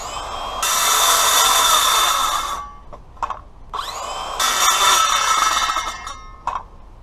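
A power saw set about half an inch deep cuts a groove in a car jack pad. Two long, loud, whining bursts run close by, each ending in a few short revving blips, with no voices.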